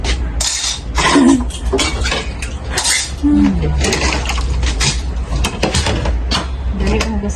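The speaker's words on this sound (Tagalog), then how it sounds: "Mahugas ang plato." Plates and cutlery clink and clatter during dishwashing in a home kitchen, with irregular close knocks and scrapes over running background noise; people talk nearby.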